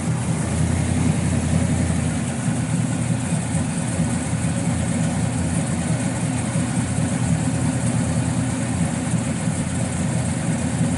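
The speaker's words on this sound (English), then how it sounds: "We'll fire it up. Fires right up. And nice little cam to it." A 1967 Chevrolet Chevelle SS 396 V8 with a mild performance cam and dual exhaust idles steadily after starting, a loud, close, continuous low rumble with a slightly uneven lope and no voices.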